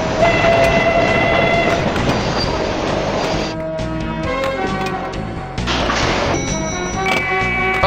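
Train sound effect from The Pinball Arcade murder-mystery pinball table: a loud, continuous rumbling rail passage with horn-like tones and clattering throughout, dipping briefly mid-way before surging back.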